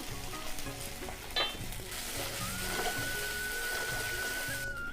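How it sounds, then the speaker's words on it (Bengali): Spices and Maggi masala sizzle steadily with banana stem in a hot pan, with a brief metallic clink of stirring and a faint high tone near the end. "দিয়ে ভালো করে আমি কষে নেব"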